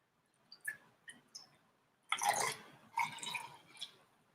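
Soda is poured into a festive holiday cocktail: a few soft drips and clicks, then two close fizzy, splashing pours, with no talking.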